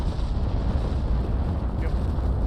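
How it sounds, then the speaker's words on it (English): A deep, continuous rumbling boom fills a naval battle scene in Ultimate Admiral Dreadnoughts as a torpedo strikes a warship, heavy low-end roar sustained without distinct peaks. "I think Terrible actually took a torpedo."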